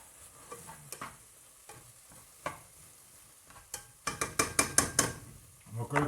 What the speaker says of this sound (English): We'll just give that a nice little stir.